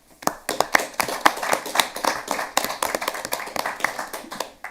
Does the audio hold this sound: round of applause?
yes